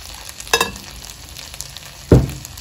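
Rice fries in a pan for Mexican red rice, with a low background sizzle broken by two short, close scraping stirs about a second and a half apart, no talking.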